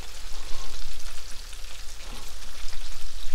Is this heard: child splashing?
no